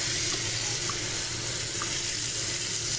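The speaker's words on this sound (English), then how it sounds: "So then you just want to fill it up with cold water." A kitchen tap runs steadily into a pot, filling it with cold water for boiling corned beef; a close, constant rushing splash with no talking.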